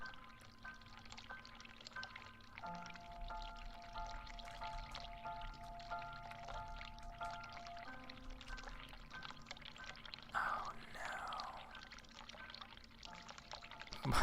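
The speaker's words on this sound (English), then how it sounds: "I can hear the water running." Running water in the video game The Cat Lady, a faint steady pouring stream beneath low game ambience with sustained tones and a brief louder clatter near the end.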